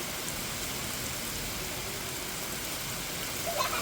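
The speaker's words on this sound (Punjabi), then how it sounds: "ਤੇਜ਼ ਹਨੇਰੀ ਵੀ ਚੱਲ ਰਹੀ ਹੈ ਬਾਰਿਸ਼ ਵੀ ਕਾਫੀ ਤੇਜ਼" Heavy rain pours steadily in a strong wind over a town in Punjab, a dense unbroken roar of water that holds at even loudness throughout.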